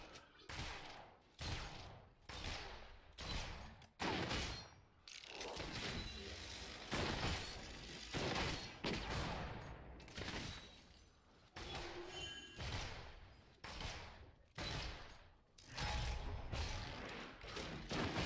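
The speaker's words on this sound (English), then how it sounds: "Lucian just shot an ability at me and I'm still in W" Rapid bursts of ability shots from Lucian in League of Legends, repeated sharp percussive volleys in quick succession through the fight, fairly loud, with a few thumps and impacts mixed in.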